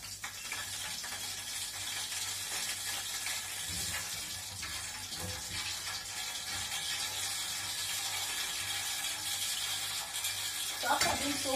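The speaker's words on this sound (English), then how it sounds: "We have to leave it in the oil first and fry." Plantain fries in hot oil, giving a steady, continuous sizzle with occasional stirring scrapes and a louder clatter near the end, with no voices.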